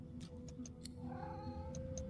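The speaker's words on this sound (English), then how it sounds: "The cat begins to purr and rub itself on your ankles." A cat in the video game Divinity Original Sin II purrs with a low, continuous rumble, faint and steady, with a few soft clicks over it.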